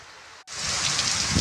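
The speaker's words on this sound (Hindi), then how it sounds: "इस तरह से फिर से यहाँ पर झमाझम बारिश आने लगी हुई है" Heavy rain pours down outdoors during a downpour, a dense, loud, steady roar of drops that surges in suddenly after a brief silence and continues unbroken with no voices.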